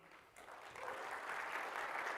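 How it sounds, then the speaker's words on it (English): A conference breakout audience applauds a speaker being introduced, a broad steady wash of clapping that starts quickly and keeps building over a couple of seconds, fairly distant and diffuse. "So please, big round of applause to Toli."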